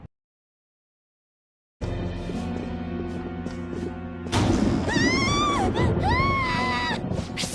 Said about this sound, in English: Scream? What was that?